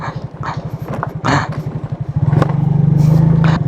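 A motorcycle engine throbs steadily during a ride on a motocamping trip through coconut country, the bike straining under load; the low, close engine pulse swells louder and rougher partway through, with brief clatter and scraping above it.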